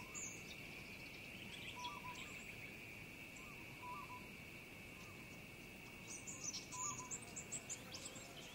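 Birds call in the Australian bush of the Blue Mountains: scattered faint chirps and hooting calls, some distant, over a constant hiss and drone, growing busier toward the end.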